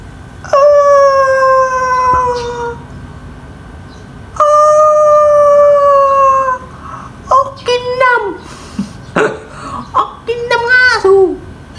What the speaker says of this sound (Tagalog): Ito yata yung asong maingay eh.